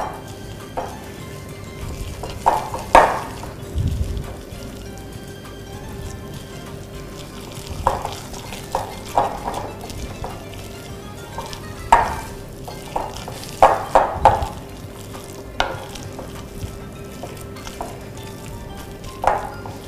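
Turmeric is mixed into food in a frying pan: a soft steady sizzle runs under scattered scrapes and knocks of a utensil against the pan, with no one talking.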